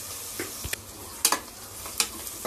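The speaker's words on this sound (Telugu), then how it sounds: "ఇలా ఉల్లిపాయలు కొద్దిగా కలర్ మారే వరకు, గోల్డెన్ కలర్ లో వచ్చే వరకు ఇలా కలుపుకుంటూ వేయించుకోవాలి" Onions and green chillies frying in a pan for egg biryani, a quiet sizzle with a handful of distinct spatula scrapes and clicks, close by, no talking.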